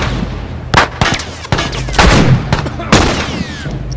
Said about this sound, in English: One more shot on this gun.